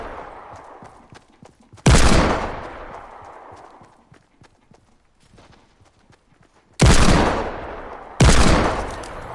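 Three loud, booming hand cannon shots ring out in Fortnite, each a sudden blast with a lingering tail, spaced several seconds apart over quieter in-game footsteps and clatter.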